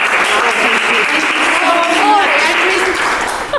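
At a 2019 storytelling panel, an audience breaks into loud, sustained applause that stays steady for several seconds before tapering slightly, with voices talking over the clapping.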